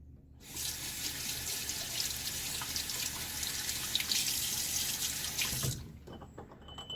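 Water runs steadily from a tap for about five seconds into a shaving bowl, then shuts off, leaving a quiet room.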